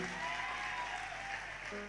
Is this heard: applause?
yes